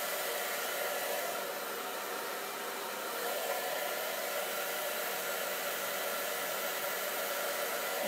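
Steady, loud rush of a hair dryer running continuously nearby, an even whooshing airflow with no pauses and no talking.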